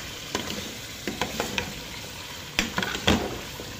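Masala frying in a pan for chicken biryani, with a soft sizzle and several sharp scrapes of a spoon stirring against the pan, close and fairly quiet, with no voices.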